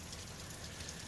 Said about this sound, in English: the weather is palm trees and raining